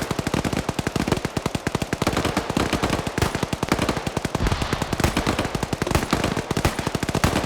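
Heavy automatic gunfire rattles without a break through a video game battle, a dense, loud stream of rapid shots with no pause and no voices.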